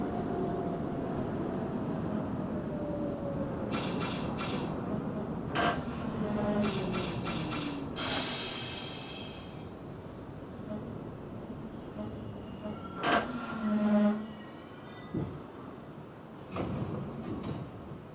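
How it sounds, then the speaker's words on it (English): A Manhattan-bound 6 local train on the New York subway rumbles steadily with rising and falling motor whine, a chime, door clatter and a brief wheel squeal, loud and close from inside the car. "This is a Manhattan-bound 6 local train."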